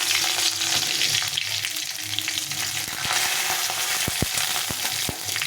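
Loud, steady sizzling as bay leaves, dried red chillies and cumin seeds fry in hot oil, with a few sharp pops and crackles near the end.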